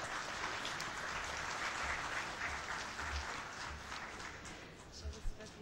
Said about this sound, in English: she deserves an applause much louder than that